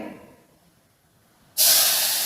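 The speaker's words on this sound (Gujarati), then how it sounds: "ડુંગળી ટમેટું સપરાઈ જાય તેલમાં" Onion and tomato dropped into hot oil for a spinach curry give a sudden loud, steady hiss and sizzle that starts abruptly after a quiet stretch and carries on to the end.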